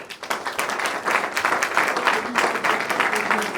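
An audience at an artists' forum in the National Museum of Congo breaks into steady applause, a dense, sustained patter of many hands clapping, with a voice talking over it.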